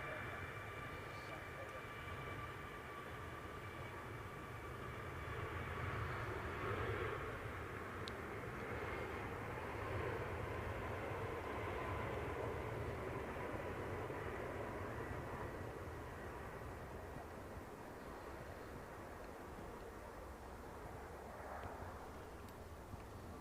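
Airliner jet engines spool up at Manchester Airport in a steady, broad roar that swells slightly and holds from a moderate distance, with someone talking quietly over it.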